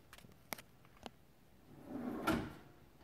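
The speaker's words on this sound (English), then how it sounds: "If a drawer or door doesn't slam shut, that's referred to as a soft close. See how it kind of pulls it in slowly?" A soft-close cabinet drawer gives a few light, quiet clicks, then a slow sliding rumble builds as the mechanism draws it in. It ends in a gentle muffled thump, all faint and close by.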